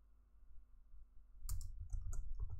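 Keystrokes on a computer keyboard while writing PHPUnit test code, a quiet stretch followed by a burst of close, crisp clicks and taps in uneven rhythm from about halfway through, over a low hum.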